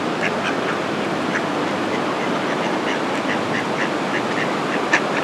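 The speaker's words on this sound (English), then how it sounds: "See, ducks, you gotta come up here to get them." Ducks quack in repeated short bursts close by during an outdoor feeding stop, with steady background noise throughout and one louder call near the end.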